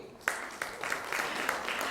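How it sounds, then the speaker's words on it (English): A conference audience at a PE/VC keynote panel applauds a newly introduced panelist, with scattered claps building into a steady, moderately loud round that carries on throughout. "We love that the applause is consistently loud."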